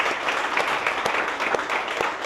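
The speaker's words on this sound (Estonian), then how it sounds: "Kuule, siia sobib üks aplaus jälle." Applause from an audience, heard alone as a brief steady patter of many hands clapping.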